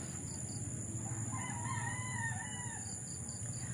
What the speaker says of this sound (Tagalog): nagtitilaw ka ng mga manok dito